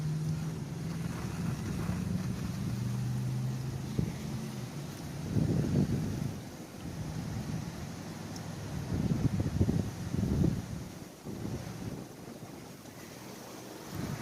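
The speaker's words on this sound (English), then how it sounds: "it's pretty windy out here today" Strong outdoor wind gusts buffeting the microphone during a trailer wire repair, a steady low roar swelling into louder rumbling bursts throughout with no talking.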